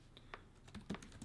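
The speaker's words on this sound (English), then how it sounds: "let's just do some fake typing." Fake typing on the full-size Brydge Pro keyboard for the iPad Pro: a quiet run of soft, irregular key clicks, close and faint, with no voices.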